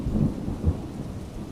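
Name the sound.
thunderstorm with rain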